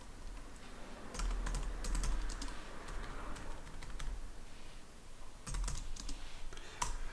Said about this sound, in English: As ever, my typing is terrible.